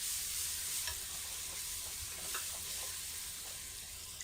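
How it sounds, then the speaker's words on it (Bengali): Blended ginger garlic paste and pepper sautéing in oil for camel meat kabsa, a steady, fairly soft sizzle with light stirring scrapes throughout. "2 চামচ দেওয়ার পরে এভাবে আমি একটু কষিয়ে নিব।"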